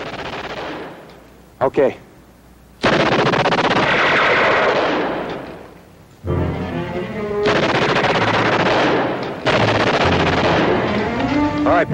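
Loud bursts of machine-gun and rifle fire erupt in a staged 1960s TV war drama battle, several sustained volleys separated by brief pauses, with a short spoken word early on.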